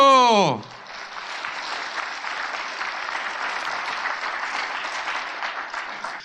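Applause from a church audience honoring the 68 nations that supported Korea in the Korean War, a steady, dense clapping that follows a brief spoken word and carries on evenly for about six seconds.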